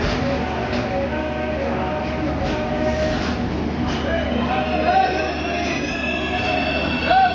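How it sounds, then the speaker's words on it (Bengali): A passenger train ride heard from inside a carriage, with a steady broadband rumble and rattle running throughout, faint tonal hums, and a few soft clunks toward the end. "আমরা ট্রেনে উঠে রিজার্ভ সিটে বসে পড়লাম।"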